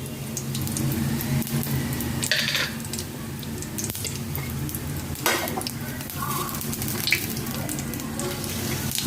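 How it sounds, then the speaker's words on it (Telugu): Cumin and shahjeera seeds sizzle and crackle in hot oil for carrot rice, a steady frying hiss broken by occasional stirring clinks and louder pops, with no talk over it. "నూనె కాగాక దీంట్లో కొద్దిగా జీలకర్ర వేసుకుందామండి. దీంట్లోనే కొద్దిగా షాజీరా కూడా వేసుకుంటున్నాను."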